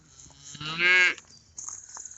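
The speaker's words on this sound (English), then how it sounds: "Younger cows." Young cows and heifers on a hillside moo, one loud drawn-out call standing out close, followed by fainter lowing from the herd.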